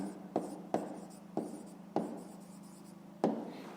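A pen writes on paper close by while math answers are set down, giving a series of scratchy strokes and taps with short, uneven pauses between them.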